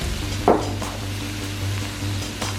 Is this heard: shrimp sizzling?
yes